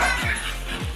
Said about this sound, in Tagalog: Yan yung mga aso natin ngayon, Daddy Des.